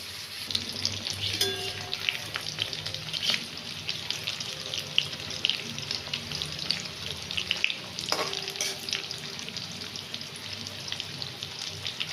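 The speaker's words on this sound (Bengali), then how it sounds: "আমি কড়াতে তেল গরম করতে দিয়েছি। এবার আমি ধোকাগুলোকে লাল লাল করে ভেজে তুলে রাখবো।" Egg dhoka pieces fry in hot oil in a wok with a continuous close crackling sizzle, broken by a few sharper pops and clinks of utensils.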